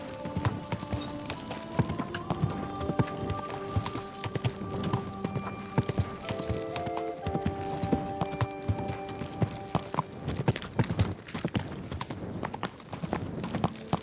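Steady, rhythmic clip-clop of horse hooves at a brisk pace in the video game Kingdom Come: Deliverance II, close by, layered over continuous tonal background music.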